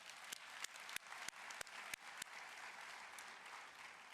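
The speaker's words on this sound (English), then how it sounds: "Why don't you give them all a round of applause?" A graduation ceremony audience claps for faculty and guests in a broad, sustained wash of applause, with a few sharp, louder claps standing out near the microphone.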